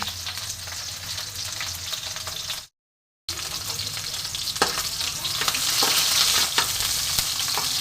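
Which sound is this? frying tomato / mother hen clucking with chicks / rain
frying tomato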